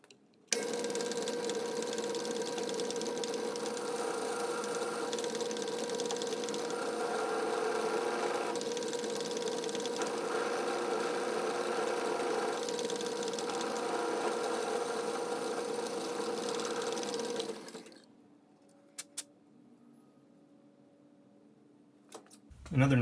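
An antique Atlas lathe set up for milling cuts 316 stainless steel with a steady, close mechanical whir and grind for about eighteen seconds, then stops abruptly, leaving near silence with a few faint clicks.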